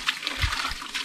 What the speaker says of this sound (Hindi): ये पाइप से पानी आ रहा है